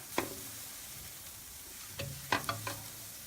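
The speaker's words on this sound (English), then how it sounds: "we're going to give those a turn, get the grill marks going the way we like" Buffalo chicken kabobs sizzle softly and steadily on a grill with a few sharp clicks and scrapes as they are turned, no voices.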